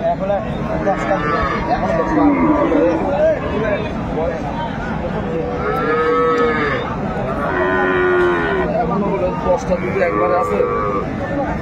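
A cow and her young bull calf moo repeatedly at a busy village cattle market, long drawn-out calls rising over a steady crowd hubbub and nearby chatter.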